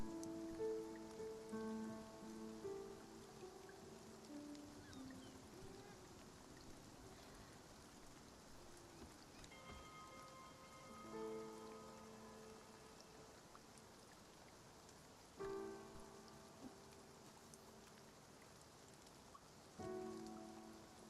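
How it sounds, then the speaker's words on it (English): Steady rain pattering on surfaces in a cozy video game, a soft continuous wash running the whole time beneath gentle tonal music, with no one talking. "I like the rain sounds in this game."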